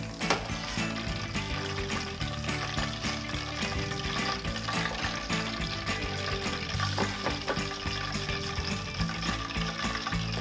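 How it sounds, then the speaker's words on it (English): Chicken pieces crackle and sizzle steadily in hot oil during a second frying, a dense continuous bubbling with occasional stirring clinks, fairly close and alone. "When you're double frying them, please fry them only 1 or 2 minutes."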